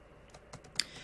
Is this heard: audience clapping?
no